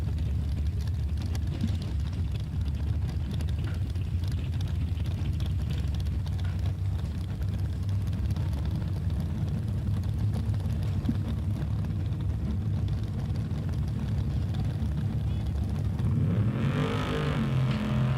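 Trucks in a bracket drag race at Newtown Dragway, including an old purple Chevrolet, with a loud, sustained engine roar throughout and a rising rev near the end.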